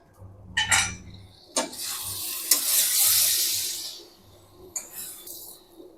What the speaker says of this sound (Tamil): ஒரு ரெண்டு நிமிஷம் போட்டு கிளறி ஆஃப் பண்ணிடணும்